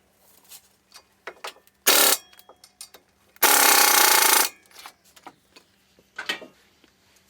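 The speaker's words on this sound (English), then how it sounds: "17mm socket will run those on." A socket wrench running in the 17 mm brake caliper bracket bolts on a 2003–2008 Toyota Matrix during a front brake and rotor job, heard as rapid ratchet clicks with two sustained bursts from a power tool.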